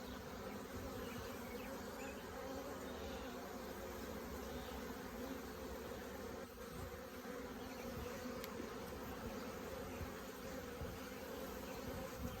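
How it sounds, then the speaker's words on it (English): A dense, steady hum of a honeybee swarm buzzing fills the air continuously, close and even in volume, with no voices. "There's a lot of bees."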